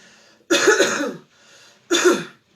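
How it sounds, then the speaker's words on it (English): Two sharp, close coughs about a second and a half apart, each with a rough throaty burst, with near silence between them. "I'm going to cough."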